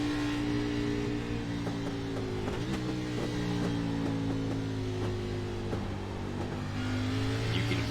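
A race car engine in a sim racing video game drones steadily with small throttle changes and pitch shifts, a constant mechanical hum throughout.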